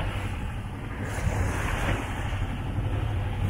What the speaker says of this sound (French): Il y a une belle houle croisée de face.